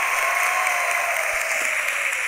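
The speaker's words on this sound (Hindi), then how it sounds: "तालियां बजती रहे मीनाक्षी के लिए।" A Kaun Banega Crorepati studio audience applauds in a steady, continuous wash of clapping that holds at an even loudness throughout.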